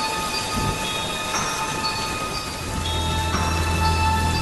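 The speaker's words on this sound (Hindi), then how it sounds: "घर पहुंचने के बाद गुल्ली और शॉन ने देखा कि बाबा घर से बाहर बैठकर बारिश का मजा ले रहे हैं।" Heavy rain pours steadily in an animated horror story scene, a dense hiss with low thunder rumbling underneath and sustained tonal background sounds layered over it.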